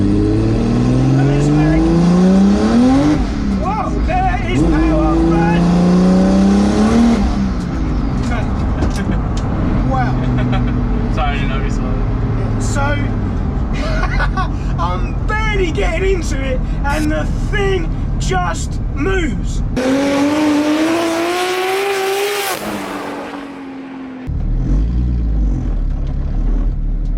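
A heavily modified 800 wheel-horsepower single-turbo BMW N54 335i pulls hard in second gear, its engine roaring and rising in pitch through the revs, then a brief lift and the roar resumes, loud and close.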